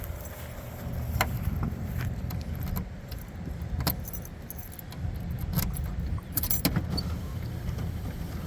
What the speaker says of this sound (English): Now I'm going to open up the tailgate here.